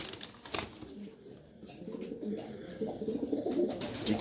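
Pigeons kept for sale coo softly in low, rolling bursts, several birds calling repeatedly at close range amid faint background noise.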